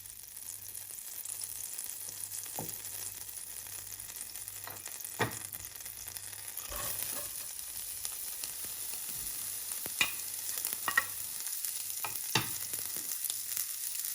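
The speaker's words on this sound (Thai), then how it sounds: "จะวอมกระทะร้อนแล้วนะคะ ก็จะใส่เนยนะคะ" Butter sizzles gently in a hot pan before frying ribeye beef, a soft continuous crackle with a few brief scraping clicks, no talking.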